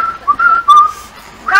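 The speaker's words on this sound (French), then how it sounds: "Il passait par là, sifflotant du Claude François." A person whistles a short, bright melodic phrase, a few quick notes, clear and close.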